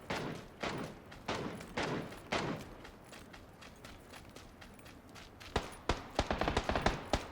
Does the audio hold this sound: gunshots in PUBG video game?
yes